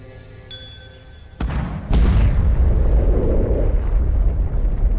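A simulated antimatter apple detonates with a sudden sharp crack and then a huge, loud, sustained rumbling roar that keeps booming without fading.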